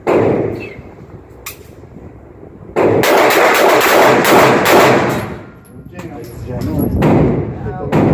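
Loud, close bursts of gunfire at an outdoor range during concealed-carry training, with shots overlapping into dense, continuous blasts, alongside voices talking.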